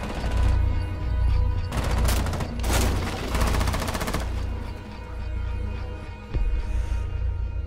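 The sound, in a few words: rapid gunfire from a gun in video game Rainbow Six Siege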